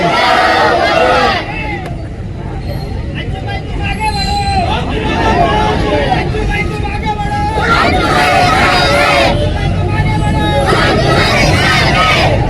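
A large crowd at a political rally answers with a loud religious slogan, voices roaring together in surging bursts of shouting and chanting that fill the whole stretch.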